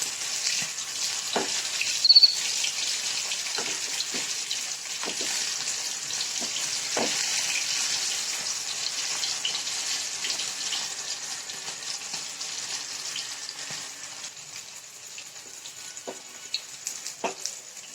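Chicken 65 frying in oil gives a steady, bright sizzle throughout, with a few soft pops and stirring clicks close by.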